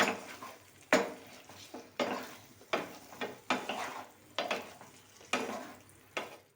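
Fried farali Manchurian is tossed and stirred through gravy in a pan, giving a series of soft scraping and clinking strokes at a steady rhythm, close and fairly quiet.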